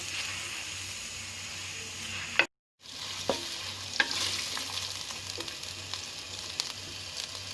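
Beef frying in a pan for karahi gives a steady, soft sizzle with occasional stirring clicks, close and fairly quiet, broken by a brief total silence near the start.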